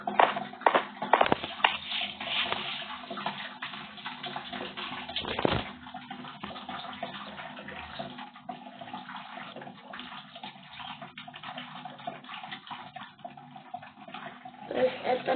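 Water flows steadily in the game Minecraft, a continuous rushing wash with a few louder splashy bursts early on. It is muffled and band-limited, and clicks and shuffling sit over it.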